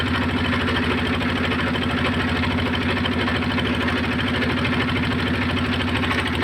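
A tourist boat's engine runs steadily on a river trip toward the Indian border, giving a loud, continuous, close-up drone with a low throbbing pulse and no pauses.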